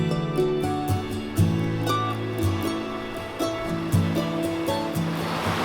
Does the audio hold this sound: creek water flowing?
yes